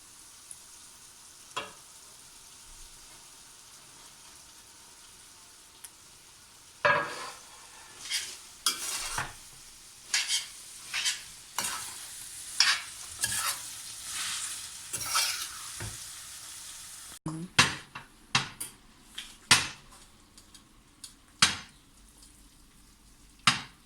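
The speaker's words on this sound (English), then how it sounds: "I'm going to first put the pasta inside so that it mixes" Pasta being stirred into bolognese sauce in a pan, with a faint low sizzle beneath a series of sharp scrapes and clacks of a utensil against the pan, irregular and close, growing busier toward the end, without talk.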